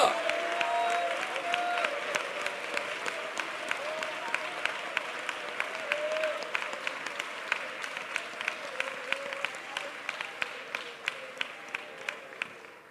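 A church congregation at a Pentecostal prayer meeting claps hands in praise, steady rhythmic applause from many people filling the hall, with crisp individual claps standing out toward the end over a continuous crowd wash.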